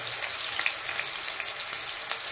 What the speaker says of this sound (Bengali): জাস্ট ফ্রাই করে নেবো।